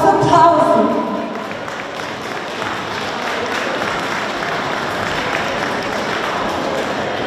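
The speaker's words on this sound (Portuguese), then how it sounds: "Vamos chamar? Força! Vosso aplauso!" An audience applauds a Portuguese folk group at a regional Janeiras singers' gathering, a broad steady wash of clapping following a brief opening voice and continuing evenly to the end.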